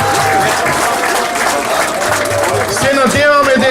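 Audience applause at a gathering, a sustained burst of clapping from a crowd, fairly loud and close, mixed with some voices and chatter.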